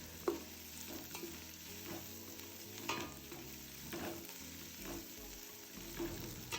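A steady sizzle of chicken frying in a pan, with occasional scraping stirs, moderately quiet and continuous with no talking.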